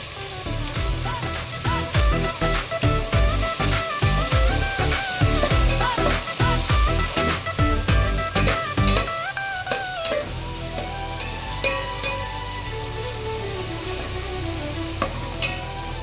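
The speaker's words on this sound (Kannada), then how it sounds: "ಈರುಳ್ಳಿ ಫ್ರೈ ಆದ ನಂತರ ಟೊಮೆಟೊ ಹಾಕೊಂಡು ಫ್ರೈ ಮಾಡ್ಕೊಳ್ತಾ ಇದ್ದೀನಿ." Onions and tomatoes fry in a pan for vegetable pulao, giving a loud rhythmic stirring and scraping over a sizzle for the first ten seconds, then a quieter steady sizzle with occasional taps.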